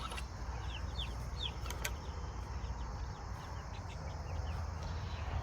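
Chicks in a backyard farm coop peep and chirp in quick, high bursts over a steady low rumble of background noise, the calls fairly faint and continuous.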